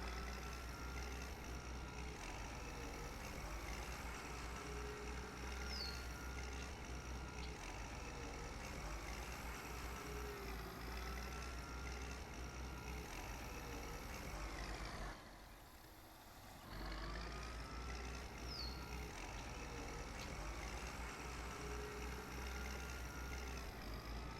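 A farm tractor driving in Farm Expert 2017, a steady engine drone that runs continuously, briefly dropping away near the end before resuming at the same level.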